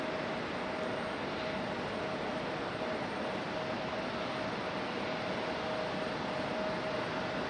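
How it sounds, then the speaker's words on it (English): A United Express airliner rolls out on the runway at Raleigh-Durham airport after touchdown, giving a steady distant engine roar with a faint constant whine, steady throughout and without voices. "United Express fully touched down here."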